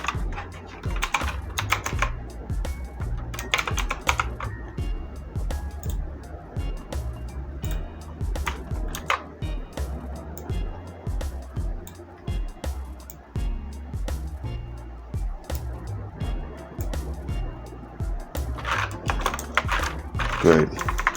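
Computer keyboard keys tapped while working in Photoshop, giving irregular clusters of close, crisp clicks and keystroke bursts spread over about twenty seconds, with quieter stretches between the flurries and a steady low background hum.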